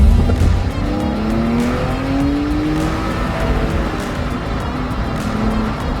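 A Smart car engine revs hard and accelerates. The loud, close drone climbs and sweeps in pitch through several rising pulls, holding steady throughout with no talking.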